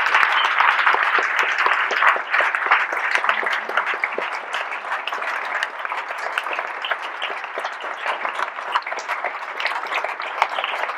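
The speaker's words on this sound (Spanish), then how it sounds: "un aplauso para Antonio" An audience at the close of a talk on death and life claps steadily for Antonio, a continuous, evenly loud wash of many hands lasting throughout with no speech over it.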